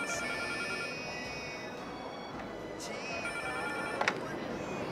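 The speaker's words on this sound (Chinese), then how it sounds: "夏红，先把电话给挂了。" A telephone rings in a 1980s Beijing setting, its bell tone sustained and moderately faint over a steady background hiss, with a brief sharp knock near the end.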